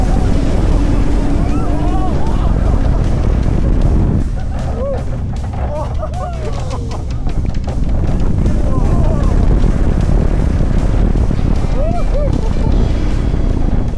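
Front-row wind on the Falcons Flight roller coaster blasts a heavy, continuous roar across the microphone, with riders' voices and shouts faintly mixed underneath.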